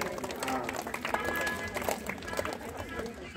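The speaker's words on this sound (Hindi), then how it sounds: "जोरदार ताली" Audience applause at a Hindu religious discourse: a sustained patter of many hands clapping, steady and moderately loud throughout, with a voice talking over it.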